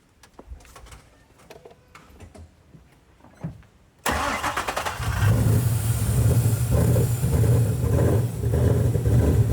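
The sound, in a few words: Ford Boss 302 Mustang engine starting and running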